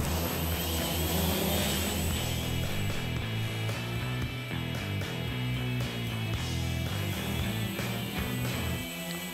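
A 3D-printed quadcopter drone flies nearby, its motors making a steady, loud buzzing whine that wavers slightly in pitch as it moves, with no voices.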